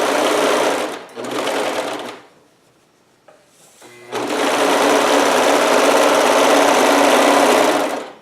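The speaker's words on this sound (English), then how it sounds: "we'll serge, we'll take off a little bit of seam allowance, about 3/8" A serger trims about 3/8 inch of seam allowance off a Hawaiian shirt seam, running loud and steady in two close bursts split by a short quiet pause with faint handling clicks.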